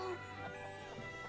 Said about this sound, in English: Chickens are fine.